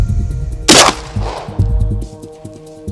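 One sharp, powerful shotgun report firing a slug bursts out against a droning background, followed by a brief fading echo.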